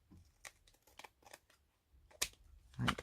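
Scissors snip paper for a junk journal page, a series of short close crisp cuts in an irregular rhythm, ending with a louder rustle of the paper.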